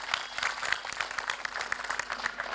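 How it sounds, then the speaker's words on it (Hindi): An audience claps together at a Ruchi Soya gathering with Swami Ramdev in Patalganga, Maharashtra, producing dense, steady applause that carries on throughout without any voices. "तो इनके लिए तो एक बार जोरदार ताली बजाओ।"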